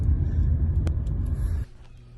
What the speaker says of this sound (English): a driving tour would not be complete without more driving